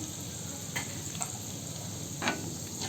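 Dried red chillies and lentils frying in a hot pan, a steady broad sizzle with a few soft stirring scrapes, close and alone with no talk.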